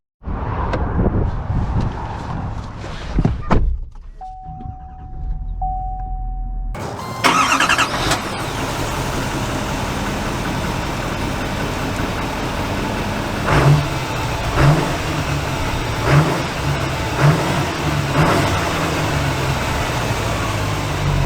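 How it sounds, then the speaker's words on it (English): A 2022 Chevy Silverado 2500 LT two-wheel-drive pickup truck: rustling and a brief steady tone, then the engine cranks and fires, settling into a low rumbling idle and drive with a few rhythmic knocks, close and steady. "So let's start off in this 2-wheel drive pickup truck"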